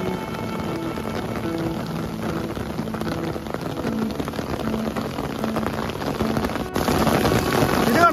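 Rain falls steadily outdoors, a dense, even patter on surfaces that holds at moderate loudness for the whole stretch and swells slightly near the end.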